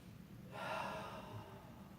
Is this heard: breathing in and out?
yes